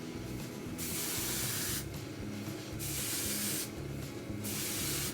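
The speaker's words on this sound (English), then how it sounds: "get the spray under it." Three long bursts of hairspray hiss close by, aimed under styled hair, each lasting about a second, separated by short pauses.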